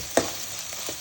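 Tamarind fries briefly in a pan for a masala brinjal curry, a short close sizzle with one sharp crackle near the start and a faint stir afterward.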